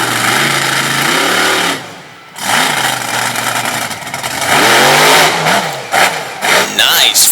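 A Chevrolet truck engine at a Monster Power truck pull event in Sarver, Pennsylvania, roars and revs hard, pitch climbing and dipping through a brief lull, loud and close, with a commentator talking over it.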